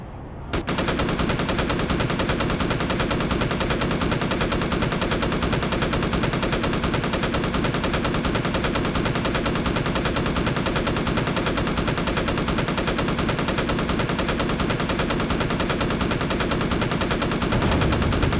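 Enemy gunfire in the video game Empyrion Galactic Survival sounds as loud, continuous machine-gun bursts, a dense rapid rattle that runs unbroken for nearly the whole stretch.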